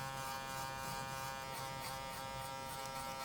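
Wahl Magic Clip hair clippers fitted with a 1.5 guard buzz steadily at close range, a constant electric hum during a fade haircut with no talking.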